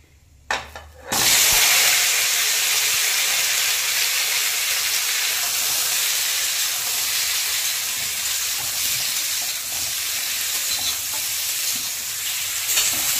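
After a brief clatter, a loud, steady sizzle of raw mango frying in hot oil with tempered spices fills the rest of the clip without pause.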